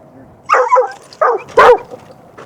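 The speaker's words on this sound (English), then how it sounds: "That's his dog Bear barking." A dog barks a few times close by, short sharp yaps in quick succession against a quiet background.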